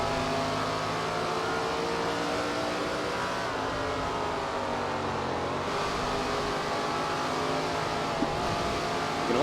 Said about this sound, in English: You can also hear me just kind of playing with the throttle here.